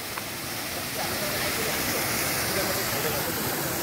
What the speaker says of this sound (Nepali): यो झर्ना हो खर्दुको अन्तिम ड्याम जुन यति सुन्दर पानी